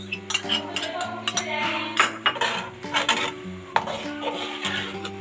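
Colored yogurt being stirred into chicken in a pot for Karachi-style Naseeb biryani, with repeated scraping and clinking of a spoon against the metal pot, close and steady over a faint tonal background.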